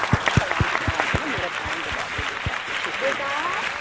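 A studio audience at a Pakistani morning TV show applauds, starting with several distinct loud claps that blend into sustained steady clapping, with a voice briefly audible underneath.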